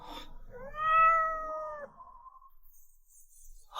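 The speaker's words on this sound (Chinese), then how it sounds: "快看，那里蹲着一只漂亮的小猫" A small cat gives one clear, drawn-out meow that rises and then tails off, close and distinct against a quiet background.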